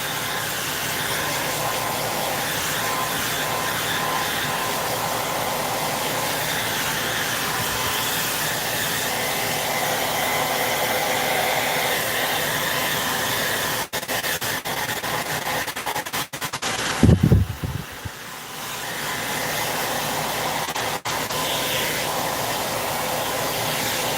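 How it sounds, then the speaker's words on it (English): A handheld hair dryer blowing over glaze on a craft Christmas tree, a steady close whooshing hiss that cuts out briefly for a moment before resuming. "I'm going to use the hairdryer and dry it off a little bit"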